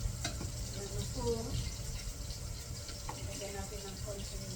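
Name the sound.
water poured into cooking green beans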